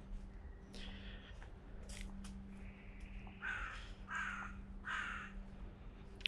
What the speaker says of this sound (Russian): Ворон каркает.